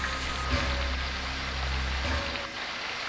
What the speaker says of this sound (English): throughout most of the day it had been raining lightly